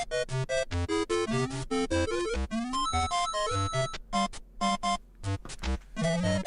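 Super Mario Bros. Special game audio: busy chiptune music with square-wave melody, bass notes and choppy sound effects in quick succession, loud and dense, with short gaps between bursts.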